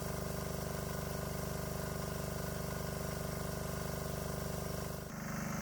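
Diesel engine on a diesel-electric golf cart running at a steady, loud idle-like drone with a regular throb, then a brief dip near the end as the engine note changes.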